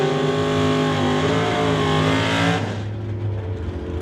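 A drag racing car, a Chevrolet in NHRA Summit ET bracket racing, roars loudly down the racetrack with a strong rising engine note that abruptly drops off as it passes into the distance.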